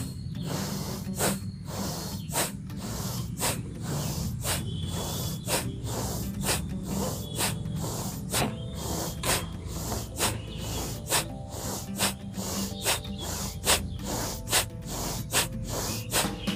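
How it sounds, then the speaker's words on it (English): Bhastrika pranayama breathing, with forceful, rhythmic, loud nasal inhales and exhales in a steady series of sharp hissing puffs, close up and alone without talk. "How to do Bhastrika? Inhale and exhale forcefully."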